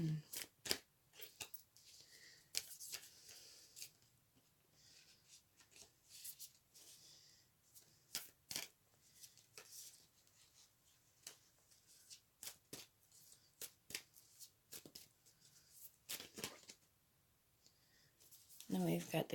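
Tarot cards are shuffled and pulled by hand in a quiet room, with sharp snapping riffles and soft slides in irregular bursts, close and fairly faint.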